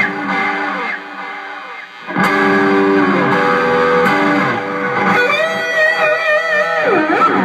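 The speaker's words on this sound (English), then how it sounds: "That sounds kind of like a space echo." Electric guitar played through a long delay and a short delay together, giving layered repeating echoes much like a tape space echo; sustained distorted notes and bending lines ring out alone, loud and close, with no talking.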